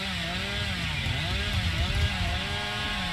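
In the video game Dead by Daylight, a chainsaw revs continuously, a loud droning engine whine that rises and falls in pitch, steady for the whole stretch with no talking.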